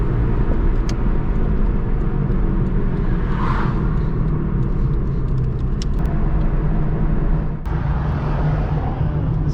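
A car drives along a road with a steady, loud engine rumble and road noise throughout, heard from inside the cabin, with a few brief clicks and a short dip near the end and no voices.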